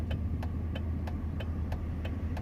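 Steady low rumble of cars, trucks and other vehicles passing on a road near a Lowe's parking area, with a faint regular ticking over the continuous traffic noise.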